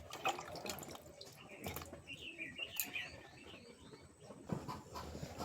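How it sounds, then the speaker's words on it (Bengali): Cut potatoes are washed in water in a home kitchen, with soft splashing and dripping close by, along with faint bird chirps in the background. "আলুগুলো কেটে ভালো করে জলে ধুয়ে নিচ্ছি দেখো"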